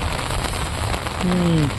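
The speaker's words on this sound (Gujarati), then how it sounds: "વરસાદ વરસાદ વરસાદ" Steady rain falls in a village, a dense continuous patter with a brief voice rising briefly near the end.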